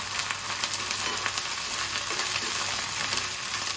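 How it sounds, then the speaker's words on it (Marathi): Ginger garlic paste sautéing in oil in a pan for a green masala prawn curry, giving a steady, dense sizzle that carries on without a break from start to finish, close and fairly loud, with no talking. "आता आपण यावर आलं लसूणची पेस्ट घालूया, 1 चमचावर घालायची आणि याची जरा शिजेपर्यंत आपण चांगलं परतून घेऊया।"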